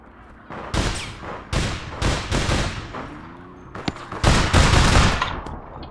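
Rapid bursts of gunfire in the APB Reloaded shooter game, several loud, sharp volleys scattered across the moment with brief gaps, mixed with other game noise and no talking.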